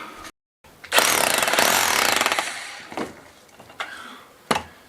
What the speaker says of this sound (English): I'm going to get the chisel out and try and put a little channel in there